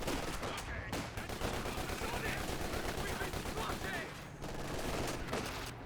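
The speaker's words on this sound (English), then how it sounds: "Looks like Grenadiers firing away." Rifle fire from German Grenadier infantry in the WWII strategy game Company of Heroes 2: a dense, continuous crackle of overlapping shots mixed with other battle noise, sustained at steady loudness throughout.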